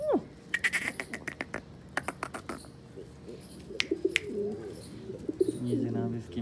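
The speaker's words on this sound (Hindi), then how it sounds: "ये जनाब मेरा सबसे फेवरेट कबूतर है क्योंकि ये ज़्यादातर मेरे साथ खेलता रहता है।" A pet pigeon coos close by in soft repeated calls. Sharp wing flaps and clicks come in bursts near the start, and the cooing builds toward the end.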